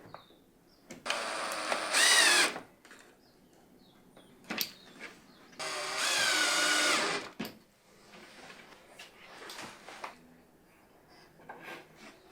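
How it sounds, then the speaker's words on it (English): A power drill drives screws into small wooden blocks fixed to table legs, two loud whirring bursts of about a second and a half each, with knocks and handling noises between, no talking. "used 2 screws to secure the block to the"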